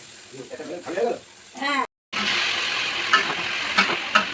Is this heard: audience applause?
no